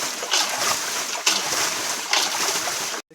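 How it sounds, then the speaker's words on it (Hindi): A boat engine runs in a broad, steady wash of noise with mechanical hiss and water sounds, loud and close, with a few bumps before cutting off abruptly at the end. "इंजन चालू हो गया।"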